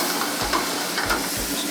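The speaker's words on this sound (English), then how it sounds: "I like to add just a little bit of wine for that belly." Wine splashed into a hot pan with searing fish, giving a steady bright sizzle with a few soft stirring knocks, close and without talk.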